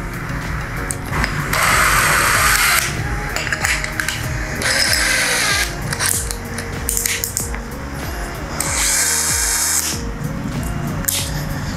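A DeWalt cordless drill running at speed 2 on a PowerStack battery bores into 6 cm thick Dutch teak, whining in several loud bursts with grinding wood noise between pauses.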